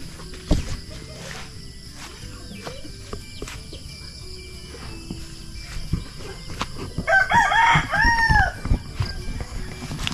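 Chickens in a yard cluck and a rooster crows loudly near the end, with scattered footsteps, crickets and other bird sounds against a steady outdoor background.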